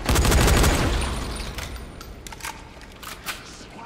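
Gunfire in the video game Dying Light, a loud burst of rapid shots at the start that fades into scattered sharp cracks and clicks, with a voice heard briefly.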